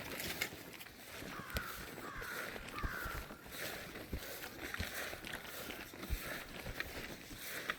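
Crows caw several times at middle distance beside a Florida roadside, harsh calls rising over soft outdoor ambience, footsteps and faint handling noise.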